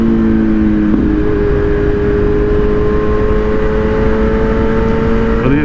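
A Kawasaki Z900 motorcycle with a flashed ECU runs loud and close, its engine holding a steady high-pitched tone, then shifting in pitch near the start and again at the end, with no talk.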